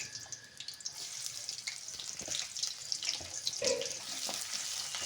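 Garlic and onion sizzle in hot oil in a pan, a faint, steady crackling hiss with small pops, heard alone without voices.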